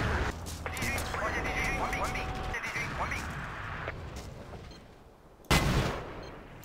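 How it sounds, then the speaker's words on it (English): Artillery fire in a war video game: scattered gunfire and mechanical clatter with a voice over it, then one loud, abrupt blast near the end that fades out. "Oh, and then artillery."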